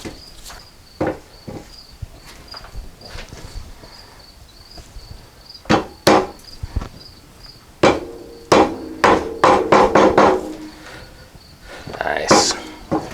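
A shock bushing being tapped into an ATV rear shock part on a hard surface: irregular, sharp hammer knocks, sparse at first, then quicker clusters of louder strikes.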